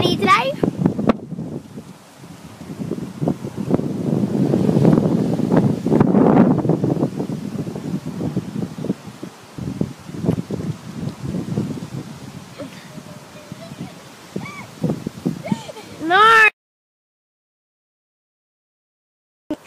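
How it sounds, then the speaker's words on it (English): Wind gusts outdoors at a pony riding jump course, a steady broadband rush buffeting the microphone for most of the stretch, with people talking over it before the sound cuts off near the end. "It's a bit windy down here today."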